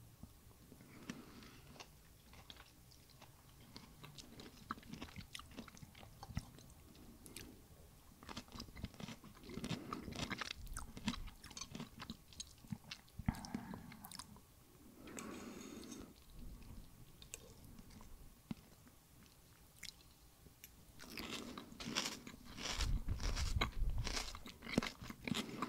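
Crunchy Dutch ham and cheese chips and herring being eaten up close, with steady crisp crunching and chewing bursts throughout, loud and dense, no talking.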